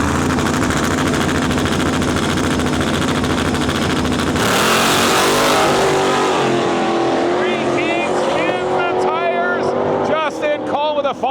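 Drag race cars launching side by side, a nitrous car against a turbo car in the X275 class, a loud sustained roar of engines at full throttle that cuts off abruptly and gives way to wavering, fading engine tones and crowd noise.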